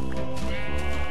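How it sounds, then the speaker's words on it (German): Sheep bleat in the Minecraft video game, one steady, drawn-out bleat that fills the whole moment, loud and close, with no talking. "Oh, noch mehr Schafe."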